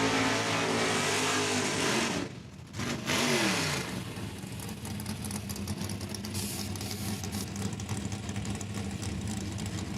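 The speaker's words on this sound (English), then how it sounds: "Right-hand lane, Mr. Camden Feasel, part of the Feasible Racing team out of Regina, Saskatchewan, 1979 Chevy Nova" Drag racing cars, a 1979 Chevy Nova among them alongside a Mercury Capri, roar loudly at a Saskatchewan raceway heads-up event, a sustained engine howl that briefly dips before resuming at full strength with no talk.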